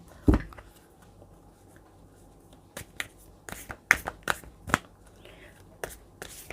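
Tarot cards drawn from a deck make sparse, sharp taps and snaps close by, a few isolated clicks and then a quicker cluster, over a quiet background with faint breathy sounds.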